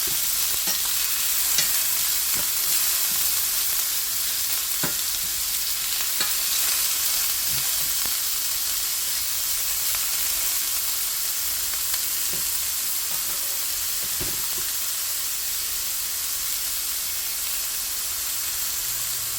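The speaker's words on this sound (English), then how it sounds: "these onions, these peppers. We'll cook these down a little bit." Onions and peppers sautéing in a Wapak cast iron skillet, a steady bright sizzle and hiss running throughout with occasional small pops and stirring clicks, close and continuous with no talking.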